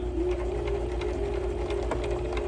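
A sewing machine stitches a face mask seam, running forward then briefly in reverse; a steady, close mechanical whir with a faint rhythmic pulse plays alone throughout.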